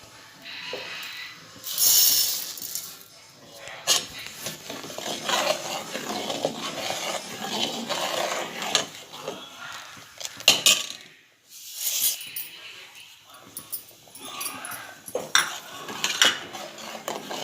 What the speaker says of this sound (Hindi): हम इसी तरह चम्मच हिलाते रहेंगे, चावल पकने तक इसे पकाएंगे